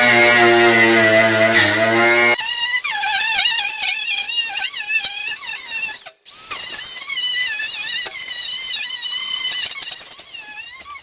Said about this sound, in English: Just gonna run the wire wheel here a little bit here.